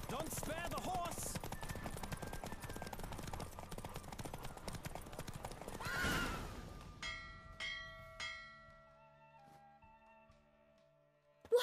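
Hooves of a galloping horse in The Witcher 3 drum rapidly through a horse race, then slow to scattered clip-clops. Bell-like chimes and sharp tones ring out near the end, and no neigh stands out clearly.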